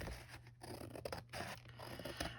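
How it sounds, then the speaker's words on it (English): Scissors snip through junk mail paper in quick close bursts, a few crisp cutting and scraping strokes separated by brief pauses, with no talking. "With a good pair of scissors that will cut easily"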